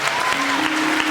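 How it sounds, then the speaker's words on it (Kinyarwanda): Brief burst of congregation applause inside a church, a dense, even patter of clapping with faint voices underneath. "twakomera amashyi menshi Imana"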